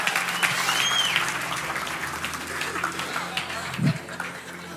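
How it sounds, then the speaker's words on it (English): A church congregation applauds a young man, steady clapping that fills the room and then thins out, with a few voices murmuring over it. "Let's give this young man a round of applause"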